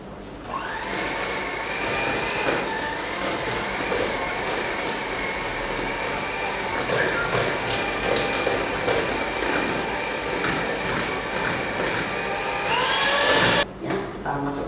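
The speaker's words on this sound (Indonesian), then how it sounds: "Nah, kita mixer." An electric mixer whirs steadily for about thirteen seconds while beating garlic bread cream with an egg yolk, then clatters and stops.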